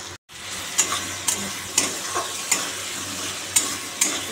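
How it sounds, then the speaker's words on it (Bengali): Onions, green chillies and tomato frying in a pan for a fish curry, a steady close sizzle broken by several sharp scraping stirs at regular intervals. "একটু টমেটো দেবো এর মধ্যে, একটু লাল করে ভাজি আগে"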